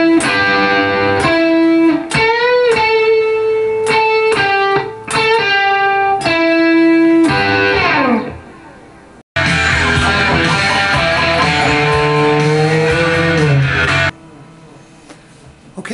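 A distorted electric guitar plays the solo with fast picked notes, pull-offs and slides, loud and sustained, breaking briefly before a ringing bend-heavy passage that cuts off near the end.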